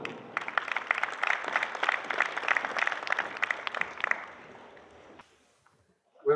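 An audience applauds at the opening ceremony of a dairy expo, welcoming a public accountant to the podium. The clapping is steady and moderately loud for about four seconds, fades out, and a brief sound follows after a pause.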